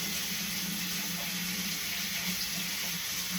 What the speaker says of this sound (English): Now we're going to take the whisk out of here and rinse it off.